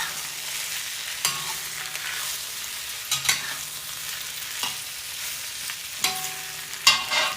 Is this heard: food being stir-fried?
yes